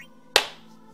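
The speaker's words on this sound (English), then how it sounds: "That was a good ass clap." A single loud, sharp hand clap rings out close by, then fades over a short tail into quiet room tone.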